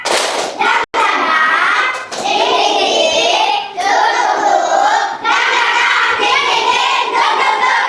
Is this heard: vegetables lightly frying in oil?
no